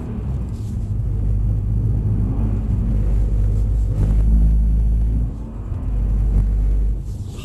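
A Mercedes-Benz car being driven for drifting on a track, its engine a steady loud low rumble heard from inside, easing off briefly near the end before building again, with no talk.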